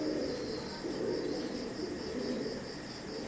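Imported Teddy pigeons, some sitting on eggs, coo softly in a continuous, low, pulsing murmur, with faint chirps and insect-like trills in the background.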